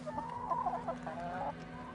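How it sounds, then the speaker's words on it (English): Domestic hens cluck and murmur close by in a farmyard, a steady run of short overlapping calls lasting about two seconds with no voices. "enthusiastic attempts to mate with Minnie, hens don't need cockerels around for them to produce eggs"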